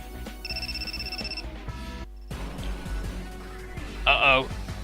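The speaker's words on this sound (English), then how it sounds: "Mobile phone rings." A mobile phone ringtone sounds in a school scene of the Super Robot Wars Z3.2 video game, a short bright electronic chime near the end, following music and other game sounds.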